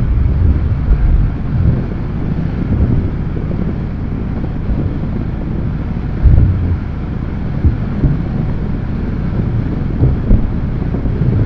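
Strong wind buffets the microphone while riding a Honda PCX 160 scooter at speed, a loud continuous roar of rushing air with low gusting surges and no talk.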